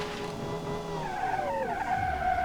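A car skids under full braking in BeamNG.Drive, a screeching tire squeal with falling tonal sweeps lasting a couple of seconds over a steady engine drone, close and fairly loud.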